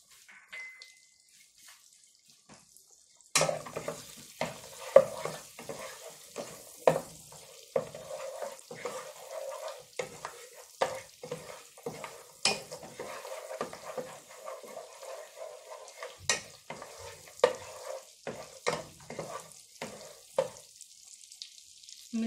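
Cardamom pods, cloves and cinnamon crackle in hot oil. After a quiet start, it turns into an irregular run of sharp pops and spits that goes on close by, with no speech.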